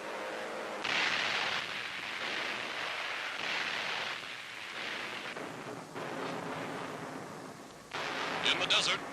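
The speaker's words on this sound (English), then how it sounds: "Relentlessly, United States bombers press home the attack, concentrating on troop transports and supply lines." United States bombers attacking troop transports and supply lines. Rolling explosions and heavy blasts rumble under a narrator's voice, with a louder burst near the end.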